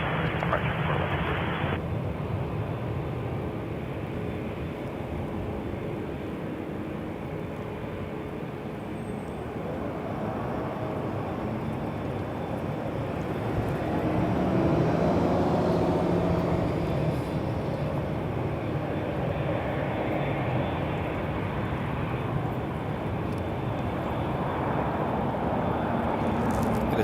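An aircraft departing runway 23 at Toronto Pearson Airport gives a distant, fairly faint jet rumble that swells midway and then holds as a broad roar.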